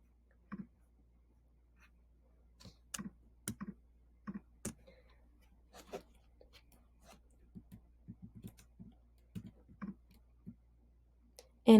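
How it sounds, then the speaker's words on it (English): Computer keyboard arrow keys are pressed while the user edits a website, a scattered run of light, close clicks and taps at an uneven pace in a quiet room. "I'm just using the arrows on the keyboard so I can get it off of that other question"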